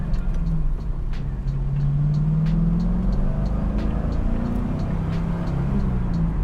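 A Camaro 35th Anniversary Edition with low original mileage pulls in second gear, its engine droning steadily inside the cabin and rising slowly in pitch, with faint ticks and road noise underneath.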